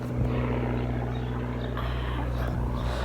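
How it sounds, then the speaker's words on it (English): A biplane passes overhead at an outdoor comic convention, a steady droning propeller engine with a low hum that holds evenly throughout, moderately loud against light background noise. "We've got a biplane going over."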